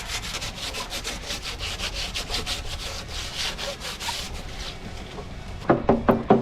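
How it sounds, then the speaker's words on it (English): Rough, rhythmic scraping of 80-grit sandpaper rubbed back and forth on wood, steady strokes close by, ending with a few sharper, louder passes. "take some 80 grit sandpaper and knock down some of this"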